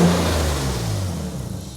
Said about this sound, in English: So, engine runs pretty well. Engine sounds healthy. It's running good.